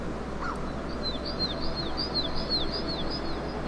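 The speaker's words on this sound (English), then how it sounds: "Birds?" Small birds chirp in a natural outdoor scene in the video game The Plan, giving a quick series of high, sweeping tweets over a steady ambient hiss.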